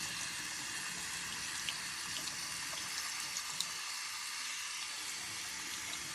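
A shaving item is rinsed under a running tap, the water hissing in a steady, even stream with small splashy ticks throughout.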